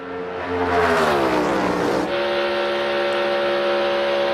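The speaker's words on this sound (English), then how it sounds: "You hear Hamlin wide open trying." A NASCAR Cup race car engine screams at full throttle, with Denny Hamlin's car driving wide open down the back straightaway. Loud, close engine howl whose pitch climbs and then steadies into a sustained high drone. Another engine is faintly audible behind it.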